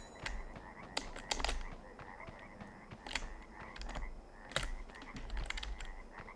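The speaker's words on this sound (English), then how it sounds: "I think the sound of all the frogs croaking is pretty calming, actually." Frogs croaking in the video game The Hobbit (2003), repeated clusters of sharp clicking croaks in irregular bursts over a quiet background, fairly faint with no talking.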